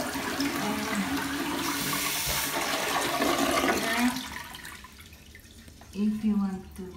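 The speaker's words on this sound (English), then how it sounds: "Just put your hand over here and flush." A Japanese public toilet flushes automatically with a loud rush of water for about four seconds, then drains away to a trickle before a voice speaks briefly.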